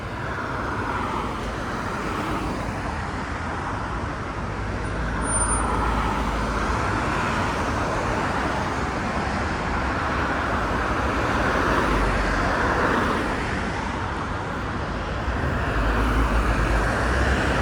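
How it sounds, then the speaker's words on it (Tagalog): Steady roadside traffic rumbles continuously, with vehicles swelling and fading as they pass by, a dense broadband roar without any voices. "yung tunog ng kalsada, yung ano ng sasakyan ba?"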